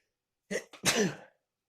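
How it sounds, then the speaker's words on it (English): A single person's sneeze indoors, a short sharp inhaled build-up followed by a loud burst, close to the listener and alone, with no talking around it. "a sneeze is coming"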